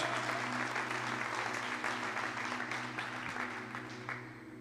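Sustained clapping from a large church congregation in Brasília during an evening service, dense and even, gradually tapering slightly toward the end over a low steady hum.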